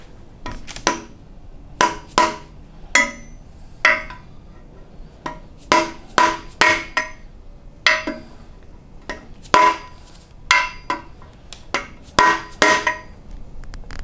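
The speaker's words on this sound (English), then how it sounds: "We're going to tap it in lightly with a hammer until it seats flush" Sharp metallic taps of a hammer striking a seal driver to seat an axle seal in a Moser Engineering Fab9 rear end, close and loud, in irregular clusters of two or three with short gaps.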